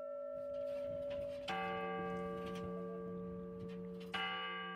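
A large clock bell in the tower of Košice cathedral rings out, two sustained metallic strikes with long humming decay, the second arriving after a few seconds of ringing resonance.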